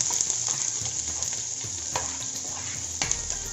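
Chopped onion frying in hot oil with popped mustard seeds in a pan for a paniyaram dish: a steady bright sizzle with occasional stirring scrapes and crackles, close and continuous, no voices.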